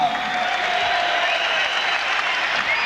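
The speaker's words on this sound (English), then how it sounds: "applauding the crowd and presumably himself there, Chris Eubank." Sustained applause from a large crowd at a boxing match, a dense wash of clapping at steady loudness with a faint whistle cutting through.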